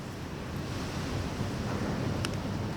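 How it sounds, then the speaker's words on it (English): Steady roaring wind from Storm Ellen batters a shed, a constant broadband rush with a brief sharp crack of the roof near the end. "Storm Ellen is kicking the fucking shit out of the shed. You can hear the roof cracking."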